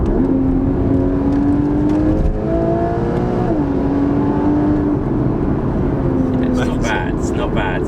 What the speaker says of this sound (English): It's such a distinctive Porsche sound as well.